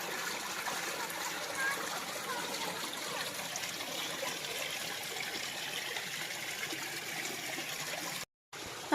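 A stream used for watering a cardamom plantation runs steadily, with a continuous broad rush and trickle of water that stays close and even throughout and cuts out briefly near the end.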